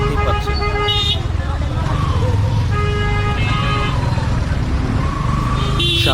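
A Dhaka road near Savar Cantonment is jammed with auto-rickshaws. Horns toot repeatedly and a siren wails over a constant loud traffic rumble, with people talking nearby.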